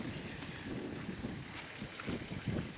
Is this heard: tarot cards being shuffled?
no